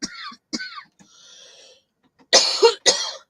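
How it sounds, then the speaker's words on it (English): Several harsh coughs and throat-clearing bursts from a nearby adult, loud and close, with quieter breathy throat sounds leading into two strong coughs at the end. "Sorry, that was a bit of a cough there."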